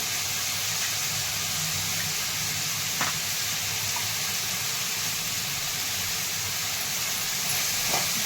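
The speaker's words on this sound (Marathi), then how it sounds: "थोडीशी जिरी टाकून घ्यायची, थोडीशी मोहरी टाकून घ्यायची" Cumin and mustard seeds sizzle steadily in hot oil, a continuous close hiss of frying with faint crackles and no voices over it.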